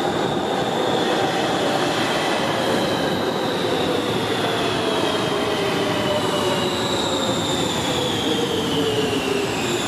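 A metro train rides on Line D toward Rotterdam Centraal, a loud continuous rumble with rising and falling whine from the motors and wheels.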